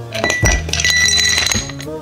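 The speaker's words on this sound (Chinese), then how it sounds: "满杯冰块打底。" Ice cubes clink and rattle into a cup, a quick cluster of bright glassy knocks at the start and then a few scattered ticks as the cubes settle, loud and close.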